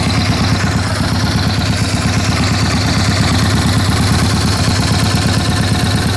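A hot 1948 Harley-Davidson FL Panhead overhead-valve motorcycle engine runs at a steady, loud, close idle with a deep, rhythmic, thumping pulse throughout and no talking.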